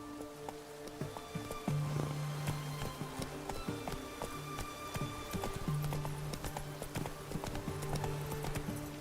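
Hooves of Roach, Geralt's horse in The Witcher 3: Blood and Wine, clip-clopping at a steady trotting rhythm, close and clear, over sustained game music tones.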